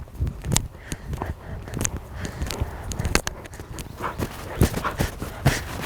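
Hooves of a dressage horse moving through a walk transition after a flying change, with irregular soft clip-clop beats and rustling close by, with no talk over them.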